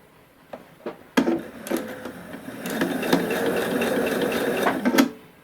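A sewing machine stitches elastic onto a fabric face mask, a few short clicks and starts, then a steady mechanical whirring run that holds for several seconds before stopping, close and fairly loud.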